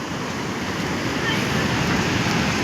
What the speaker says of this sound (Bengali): সমুদ্র উত্তাল হয়ে আছে,